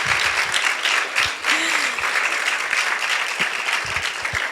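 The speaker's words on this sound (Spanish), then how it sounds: "quiero pedirle un aplauso a Emir" Audience applause for Emir, steady close clapping throughout with occasional low thuds, and a brief voice sound rising through it.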